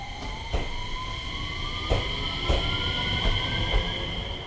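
A 6-car train pulls into a station on Japan's Geibi Line from the Hiroshima area, with a rising electric motor whine, rhythmic wheel clacks over rail joints and a steady rumble, close and loud.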